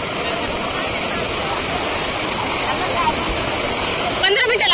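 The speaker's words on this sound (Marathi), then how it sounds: "पाण्याच्या लाटा खूप मोठ्या येतात" Big sea waves rolling in at Shreevardhan beach, a steady broad surf roar close by, swelling slightly near the end with a brief splash.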